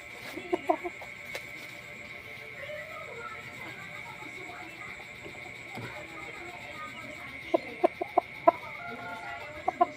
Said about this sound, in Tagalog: Solid chicken